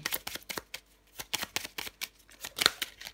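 Tarot cards are shuffled and drawn in a quick run of crisp riffling and flicking strokes, close and clear with no talk over them.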